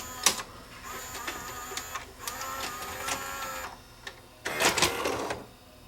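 A Sony SLVR1000 SVHS VCR with a slipping loading motor whirs and clicks up close in uneven bursts, with mechanical grinding and a louder clatter near the end.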